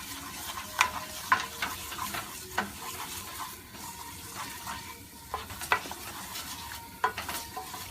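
Choux pastry dough is stirred and cooked in a pan on the stove, soft sizzling under repeated scraping and clacking of the spoon against the pan in uneven strokes, close up with no talk.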